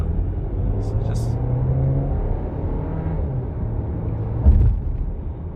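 A 2023 VW Tiguan R-Line with a 150PS DSG drivetrain rolls along a road, its steady low engine and road rumble filling the cabin, with a brief thump from a bump near the end.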